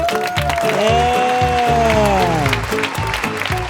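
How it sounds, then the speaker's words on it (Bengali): A game-show studio audience claps loudly and continuously, half-buried under a bright, swooping musical jingle that dominates throughout. "জোরে একটা হাততালি উঠুক"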